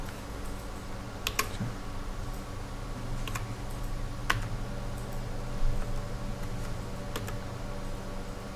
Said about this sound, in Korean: 컨트롤 키를 눌러서